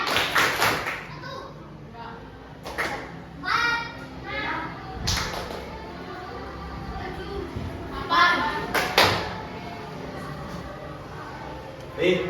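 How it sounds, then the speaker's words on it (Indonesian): Children in a classroom clap a counted 3-6-9 rhythm together, sharp bursts of claps separated by pauses, with children's voices and a teacher talking between rounds. "Ulangi, yang lebih keras harus lebih kompak. Ulangi ya. Yang keras. 369 tepuk tangan."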